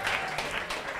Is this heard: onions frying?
no